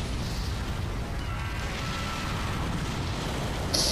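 Missiles exploding in the Godzilla game on PS4, a loud continuous rumbling barrage of blasts with a sharper hit at the very end.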